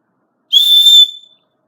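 A single sharp, shrill blast of a Light My Fire fire steel's emergency whistle, loud and close, lasting under a second before cutting off into silence.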